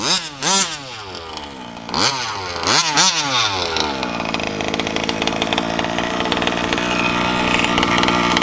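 A motorcycle engine revs loudly in several sharp rising bursts through a Bartolin exhaust pipe, then settles into a steady, throaty roar from the loud exhaust close by.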